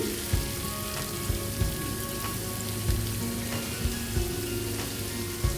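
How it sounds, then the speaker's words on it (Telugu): Large sliced onions frying in hot oil, making a steady crackling sizzle with scattered pops and occasional soft stirring knocks, close-miked and with no voices. "ఇలా కట్ చేసి తీసుకున్న పీసులన్నీ వేసి కూడా ఫ్రై చేసుకుందాం"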